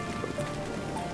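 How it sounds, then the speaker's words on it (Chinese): Rain falls steadily, a soft close patter on leaves and tiles with a few brighter drops, quiet and continuous with no voices. "下雨声啊"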